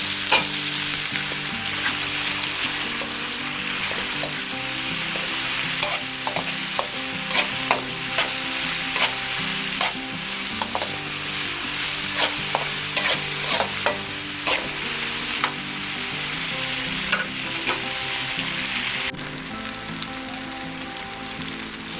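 Spam frying in a pan: continuous loud sizzling hiss with frequent spatula taps and scrapes scattered throughout, close and sustained for the whole stretch.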